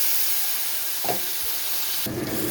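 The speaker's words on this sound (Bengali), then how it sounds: "এবার মশলাটাকে ভালো করে ভেজে নেব" A paste of green chilli, garlic and onion frying in a pan: a soft, continuous sizzle and hiss, with a brief stir around the middle and a sharper burst of sizzling near the end.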